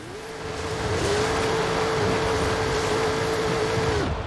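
A car drives off-road and drifts in the racing game Forza Horizon 5, a steady loud engine drone with a sustained tone held for several seconds over rumbling tyre noise.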